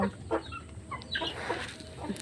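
A hen clucks faintly in a backyard at morning, a handful of short, soft clucks spaced irregularly over quiet background noise.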